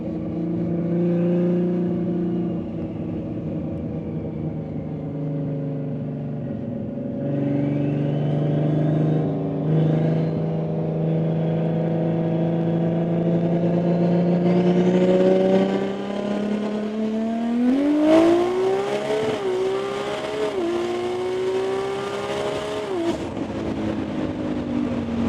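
A Nissan R32 GT-R races an Evolution 10 at a roll racing event; its engine drones steadily under load, then climbs in pitch through loud revving with quick gear changes, heard close from inside the car.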